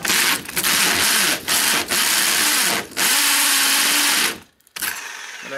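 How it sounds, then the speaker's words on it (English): A worn 2-inch Milwaukee hole saw grinds loudly into a concrete foundation in long rough bursts separated by brief pauses, with no talk. "for some reason, it was still sort of drilling there"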